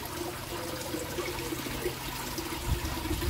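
Water trickles and drips gently and steadily from a trickle-tower filter beside a garden pond. It is a soft outdoor wash with a faint splash near the end.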